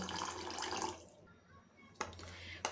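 Water poured into bael fruit pulp for a bael pana drink: about a second of rushing pour that stops, followed by quiet and a couple of soft knocks.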